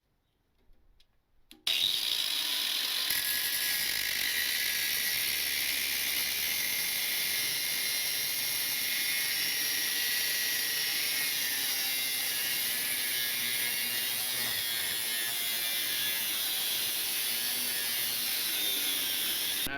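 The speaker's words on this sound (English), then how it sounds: "So let's go ahead, cut this, and go from there. Gotta take the sawzall out," A reciprocating saw cuts through a titanium exhaust pipe, a steady, loud, close grinding rasp that starts abruptly after a short quiet lead-in and keeps going without a break.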